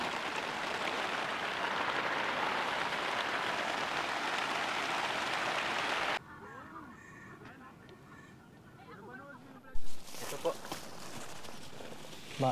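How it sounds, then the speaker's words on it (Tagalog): Heavy rain falls on a tent at a camp in a loud, dense, continuous patter for about six seconds, then stops abruptly, leaving quiet surroundings with faint talk and a few sharp knocks. "Ayan, inuulan na naman kami"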